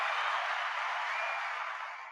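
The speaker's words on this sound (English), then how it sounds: "I'm gonna do another round of applause" A pre-recorded round of applause plays on a podcast as a steady, dense wash of clapping that holds evenly and then begins to fade toward the end, with no voices over it.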